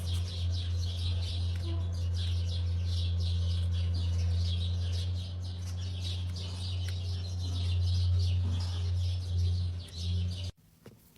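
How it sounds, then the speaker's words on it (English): Spring birds twitter outdoors near a horse hoof-trimming job, a fairly continuous run of small chirps over a strong steady low hum, cutting off at the very end. "You can hear the birds in the background."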